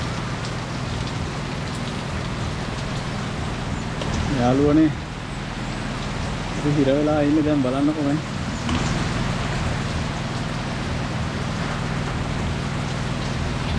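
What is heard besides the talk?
heavy rain falling on a small roadside shop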